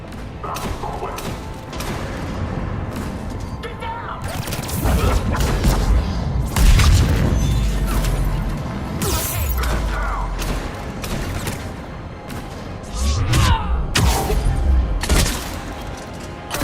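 Heavy booming cannon explosions and thuds roll through a busy, layered Mass Effect 3 soundscape, with repeated loud impacts and mechanical clatter throughout.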